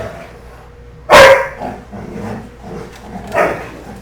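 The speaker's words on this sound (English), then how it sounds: "And my dogs are having a little fun back there." Dogs barking while playing in a room nearby, one sharp loud bark followed by softer yips and a second smaller bark a couple of seconds later, over a low background hum.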